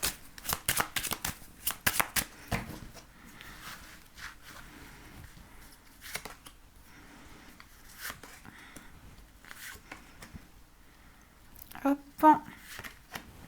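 Tarot cards are riffled and shuffled by hand in a series of quick crisp bursts, then go quiet before a sudden flurry as several cards slip and scatter; a voice speaks briefly over the handling.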